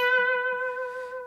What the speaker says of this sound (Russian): Затем мы опускаем этот бенд, играем просто на 15 ладу второй струны.